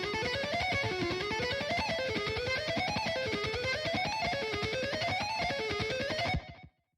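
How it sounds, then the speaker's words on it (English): Lead electric guitar line from a dense rock mix, a sustained distorted melody weaving up and down over driving full-band backing, loud and continuous until it cuts off near the end. "lead guitar sounds like this."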